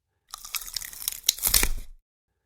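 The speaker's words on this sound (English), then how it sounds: "then a crack, like something brittle breaking underfoot" A short, dry crunching and crackling, like something brittle snapping and breaking, rising to a louder burst before stopping abruptly.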